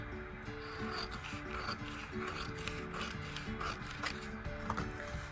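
Scissors cut along a line on a paper sewing pattern, giving a faint, close rasping and rustling with small clicks, quiet and steady.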